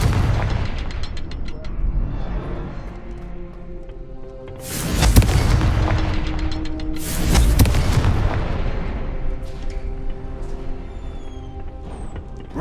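Two heavy fiery blasts from a Confringo fire spell in the Hogwarts Legacy video game, each a loud broadband boom about two seconds apart, set over a steady rumbling game ambience and music.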